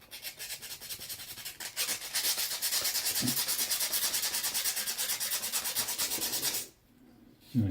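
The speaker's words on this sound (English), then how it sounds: "Just got to sand it off, get all that rust off of it." Sandpaper rubbed by hand against rusty metal, a steady rhythmic rasping scrape that runs continuously for several seconds, close and fairly loud, then stops abruptly.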